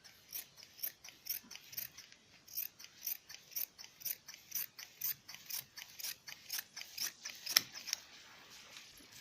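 Scissors snip through balloon salwar fabric in a fast, regular series of crisp, faint cuts close by, with no voices.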